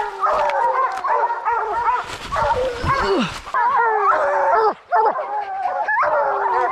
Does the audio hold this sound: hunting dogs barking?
yes